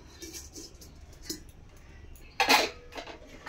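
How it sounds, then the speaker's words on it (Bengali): A cooking pot for khichuri set on a kitchen stove gives a brief metallic clank, close and fairly sharp, among a few faint taps and clinks against a quiet background. "খিচুড়ির জন্য হাঁড়িটা বসিয়ে দিলাম।"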